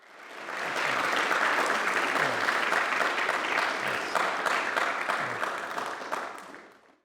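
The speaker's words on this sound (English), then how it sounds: "Can we give him a big welcome and round of applause?" An audience at a science and faith talk gives a welcoming round of applause, rising quickly into sustained, even clapping before tapering off.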